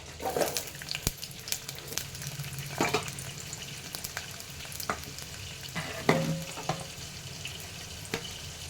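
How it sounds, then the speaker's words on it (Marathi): Chopped onion frying in hot oil in a cooking pot for bhogi bhaji gives a steady low sizzle, with scattered sharp clicks and scrapes from stirring throughout. "तेलामध्ये घालूया कांदा."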